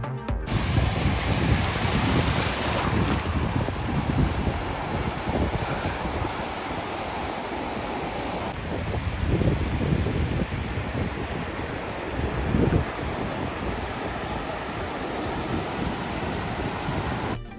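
Sea waves at Bakkhali beach in West Bengal, gentle surf with a constant broad wash of breaking water and heavy wind buffeting the microphone, with no voices.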